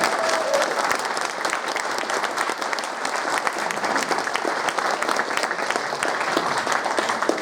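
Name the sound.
audience applause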